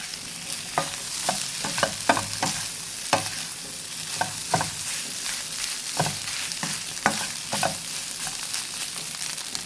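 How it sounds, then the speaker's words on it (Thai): Rice with Thai pork sausage is stir-fried over medium heat in a hot pan, with steady sizzling and frequent scraping strikes of a spatula against metal. "ใช้ไฟกลาง ผัดให้เข้ากันเลยนะคะ"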